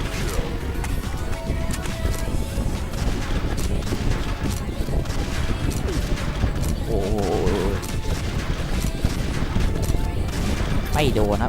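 The White Blue 85 gun in the shooter game Xshot fires in continuous rapid bursts, emptying a whole magazine, while a voice talks over the shots.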